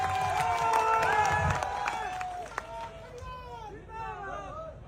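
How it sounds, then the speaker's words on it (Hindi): A large crowd at a political speech in Masuda cheering and clapping, with a loud voice over the noise and a burst of whistles and shouts toward the end. "अपने दोनों हाथ उठा करके ताली बजा करके हर्ष चिकारा हम अभिनंदन करते हैं।"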